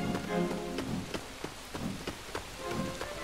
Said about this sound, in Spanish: Empieza a llover fuerte.